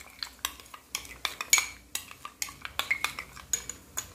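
A utensil stirs a black pepper dipping sauce in a small dish, giving a run of light, close clinks and scrapes at a quick, uneven rhythm with no talking.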